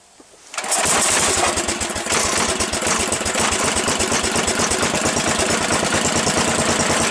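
A Briggs and Stratton 11hp small engine fires up after a brief fumble and settles into a loud, close, steady chugging run with an even, rapid beat.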